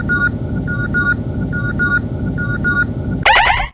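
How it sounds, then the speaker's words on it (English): Star Trek themed game show buzzers demonstrated, a repeating pattern of short electronic beeps in a steady rhythm, followed by a louder burst of warbling tones at the end, loud and close with no talking. "Why don't you demo the buzzers for them?"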